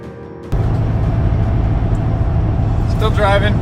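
A truck pulling a trailer along a highway, with a steady low road rumble and engine drone that jumps up abruptly early on and then holds constant and loud, while a voice speaks over it near the end.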